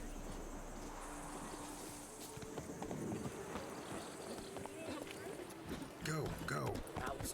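Geralt's horse Roach trots in The Witcher video game, a rhythmic clip-clop of hooves on ground against quiet outdoor ambience with crickets, and a voice speaks over it.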